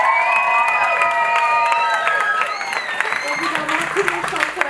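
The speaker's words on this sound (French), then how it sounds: "applaudissements bien" An audience at a gospel charity concert applauds and cheers in a lively, sustained burst of clapping that fades toward the end, with voices and shouts mixed in.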